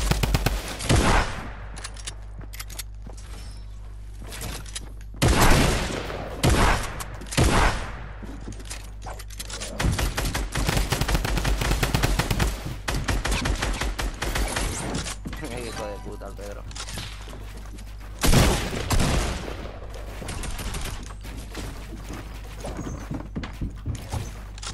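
Fortnite gunfire in repeated loud bursts of rapid shots separated by short pauses, with quieter clicks and clatter between the volleys.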